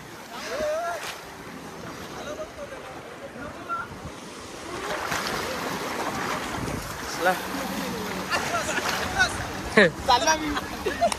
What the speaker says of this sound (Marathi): भैया लाटा बघा कसले आहेत